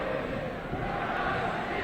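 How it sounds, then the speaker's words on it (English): Rugby fans at a Harlequins versus Wasps match make a steady, dense roar of crowd noise, with the sound holding level for the whole stretch and no single voice standing out. "the crowd have found their voices again"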